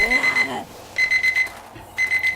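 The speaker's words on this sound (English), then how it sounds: "There's that timer." Timer alarm in the console video game 7 Days to Die, a sharp electronic beeping repeated in three quick clusters of short pulses over quiet ambient game sound.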